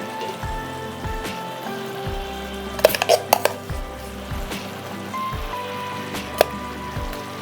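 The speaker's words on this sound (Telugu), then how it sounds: "ఇక్కడ ఈ స్టేజ్లోనే మనం ఉల్లి ముద్ద వేసేసుకుందాం." Onion paste goes into a pan of simmering ridge gourd curry, bringing soft spoon scrapes and a cluster of bright metallic clinks against the pan over a low, steady cooking hiss.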